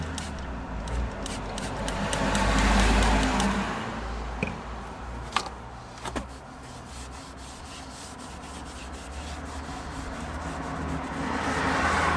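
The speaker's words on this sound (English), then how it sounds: "I'm going to quickly just put some dressing over it using the Auto Bright tyre dressing and also their tyre dressing applicator" Tyre dressing being rubbed onto a wheel of an E92 BMW 320d with an applicator pad, a continuous soft scrubbing swish close by, with a couple of light knocks partway through and no talking.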